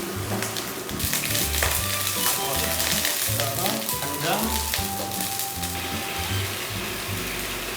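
Ginger stir-frying in a pan in a rural Thai home kitchen, a steady loud sizzle with rattling, scraping stirring clatter running throughout.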